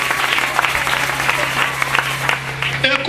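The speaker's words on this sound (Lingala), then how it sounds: "Applaudissez très fort." A church congregation claps loudly, dense sustained applause filling the space while a low hum runs beneath and a voice cuts in near the end.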